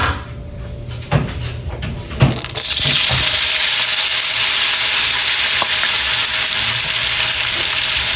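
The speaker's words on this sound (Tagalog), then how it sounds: "At ipiprito ko po muna ang tokwa." Tofu frying in hot cooking oil in a pan for a Filipino breakfast, opening with a few clatters and stirring knocks, then a loud, steady broadband sizzle that keeps going on its own without talk.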